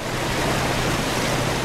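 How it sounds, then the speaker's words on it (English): Storm-swollen water rushes down a debris-covered stream after downpours and flooding in Moore, Oklahoma, a steady, dense, hissing roar that stays loud and even throughout with no voices. "Rushing water flows down a debris-covered stream."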